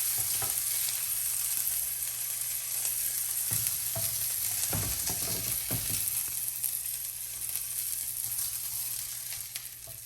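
Shrimp sizzle steadily in hot oil in a wok for a quick shrimp chow mein, with a dense, continuous frying hiss and a few brief clatters of tossing and stirring, close and loud with no talk.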